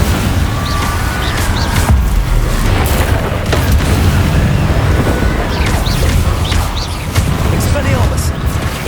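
Incendio fire spells cast over and over in Hogwarts Legacy, loud booming fiery blasts and crashes in quick succession with a voice shouting spell names between them.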